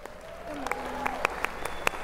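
An audience gives a guest a round of applause, a steady wash of many hands clapping with a few sharper claps, at moderate distance.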